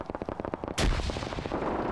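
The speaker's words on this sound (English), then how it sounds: "Pops a grenade." A grenade goes off in a WW2 PvP shooter match: one heavy, booming blast erupts after a stretch of quieter battlefield clatter and rumbles on to the end.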